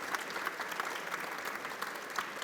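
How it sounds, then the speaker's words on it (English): Applause from a conference audience for the session speakers, a steady wash of many hands clapping, fairly faint and distant, with no talk over it. "Please join me in a round of applause for our great speakers."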